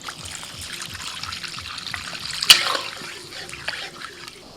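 Water trickles and pours steadily into a pan of frying mustard paste, with a brief splash partway through and faint kitchen clatter.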